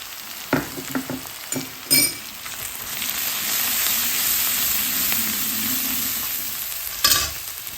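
Gram flour being stirred into frying onions in a pan for stuffed brinjal: a few spoon clinks and scrapes, then a steady close sizzle of hot oil under continuous stirring, ending with another metallic clink.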